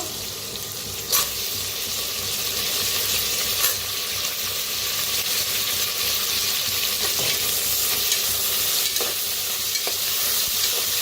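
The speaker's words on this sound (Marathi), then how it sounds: "कांदा हलकासा भाजत आलेला आहे, त्याच्यातच टाकूया बटाटो." Potatoes and onion frying in a pan, with a steady sizzle and repeated stirring scrapes across the whole stretch, close and moderately loud, no voices.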